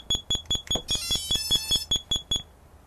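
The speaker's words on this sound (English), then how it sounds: "when you let go of the button you'll have this beeping and flashing like that" An OrangeRX OpenLRS radio module beeps repeatedly while binding a transmitter and receiver, a rapid series of about a dozen short, evenly spaced high electronic beeps, close and clear.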